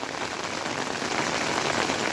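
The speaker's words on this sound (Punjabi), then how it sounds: "ਰੱਬ ਕਰੇ ਜਲਦੀ ਜਲਦੀ ਬਾਰਿਸ਼ ਬੰਦ ਹੋ ਜਾਵੇ" Steady rain falls throughout, a dense, even hiss of drops pattering on a surface with no voices.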